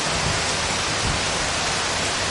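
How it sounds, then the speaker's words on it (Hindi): Steady, heavy rain pours down over an outdoor religious discourse gathering, a dense continuous hiss filling the space with no voices heard. "इस बरसात में बैठे हो, ऐसी विषम परिस्थिति में बैठे हो"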